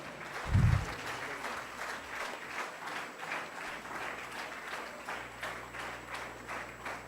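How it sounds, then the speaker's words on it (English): Steady applause from a conference symposium audience after a pre-lunch session, dense and even clapping that carries on for several seconds at moderate distance, with a brief low thump near the start. "Let's give him a big round of applause."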